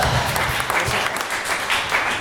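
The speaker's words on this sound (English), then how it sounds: "Keep it going for Becca." A comedy club audience at The Clubhouse in Hobart gives sustained applause, a dense crackle of many hands clapping, fairly near and steady, with some scattered voices mixed in.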